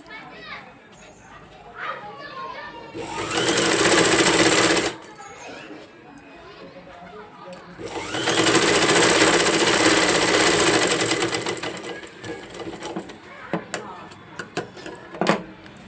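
A sewing machine stitching a shape belt runs in two steady, loud bursts of several seconds each, separated by pauses, with a voice talking and faint background chatter in between.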